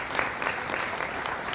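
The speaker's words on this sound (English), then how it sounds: "Big round of applause for our sponsors." A dense, steady round of crowd applause for the sponsors at a high school girls' soccer banquet, continuous many-handed clapping heard alone.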